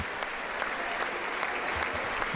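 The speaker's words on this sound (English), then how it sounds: "Republicans applauding this and celebrating this" Sustained applause from Republican members in the chamber of Congress during a joint address, a thick, continuous clapping with a few sharper claps standing out.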